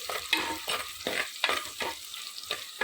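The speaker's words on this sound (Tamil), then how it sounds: "ஒரு பச்சை மிளகா, வடம் இதை போட்டு நல்லெண்ணெய் ஊற்றி வதக்கிட்டுருக்கேன்" Shallots, garlic and green chilli sautéing in sesame oil for a brinjal and drumstick kuzhambu, with a lively sizzle broken by rhythmic spatula strokes about every third of a second, close and clear with no talking.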